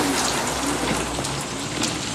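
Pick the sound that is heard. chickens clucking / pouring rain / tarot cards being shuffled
pouring rain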